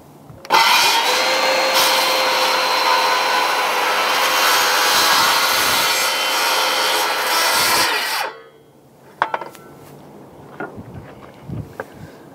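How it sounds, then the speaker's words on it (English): A Makita power saw rips through wood in one long continuous cut lasting about eight seconds, loud and steady with a bright high whine, then stops abruptly; a few light knocks and handling clicks follow in the quiet. "That's a nice cut by the Makita."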